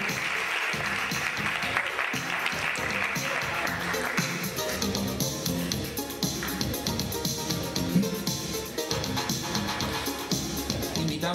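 Applause for Diego Roca Vizcarra as he is called up, a continuous, moderately distant patter of many hands clapping that stays fairly even throughout without talk over it.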